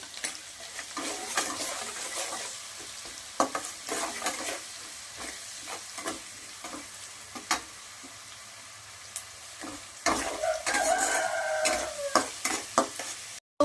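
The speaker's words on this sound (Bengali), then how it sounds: "পেঁয়াজ কুচিগুলো দিয়ে একটু নাড়তে থাকবো" Chopped onions frying in a pan while being stirred: a soft sizzle under irregular scraping strokes and utensil clicks, with a louder, busier burst of stirring near the end.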